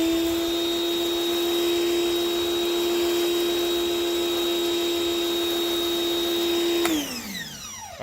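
A Ryobi SPX3000 14.5-amp electric pressure washer, rated at 2030 PSI, sprays a gentle mist of soap with a steady, high motor whine. Near the end the motor shuts off and its pitch winds down.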